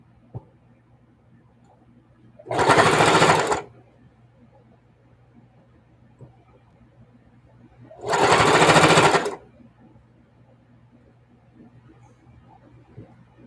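A sewing machine stitches down a mitered corner on a soft-fabric quilt in two separate bursts of about a second each, close and fairly loud, with quiet pauses around them.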